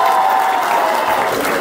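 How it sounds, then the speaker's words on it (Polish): Audience at a youth under-14 basketball awards ceremony in Toruń gives steady, continuous applause, a dense wash of clapping with faint crowd voices underneath. "Wielkie brawa!"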